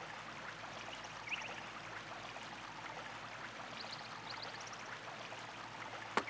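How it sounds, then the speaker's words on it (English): A brook flowing in the Sega Saturn game Albert Odyssey: Legend of Eldean, a steady soft rush of running water with faint chirpy tones above it, heard alone at moderate level without talking. "It's like a brook."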